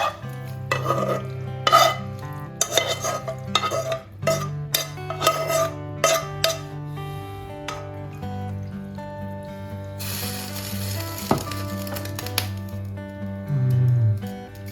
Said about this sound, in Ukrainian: Додаємо нашу засмажку